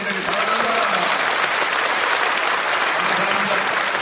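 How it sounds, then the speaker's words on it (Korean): A church congregation at a Korean Presbyterian assembly thanksgiving service claps warmly for several seconds, a full, even roar of hands from a large seated crowd. "우리 이 자리에 앉아 계신 여러분들 뜨겁게 격려의 박수해 주시기를 바랍니다"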